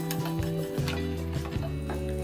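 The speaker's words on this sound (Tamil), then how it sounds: "சேர்த்துட்டு தேங்காவையும் நல்லா ரோஸ்ட் பண்ணிக்கலாம்." Grated coconut roasting in a pan for stuffed brinjal curry, with a spoon scraping and stirring in repeated strokes over a soft, steady background hum, close up.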